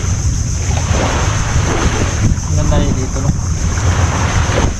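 Sea waves and wind along the shore at a seaside picnic spot, a steady broadband wash with gusty wind buffeting the microphone throughout, while a person talks casually over it.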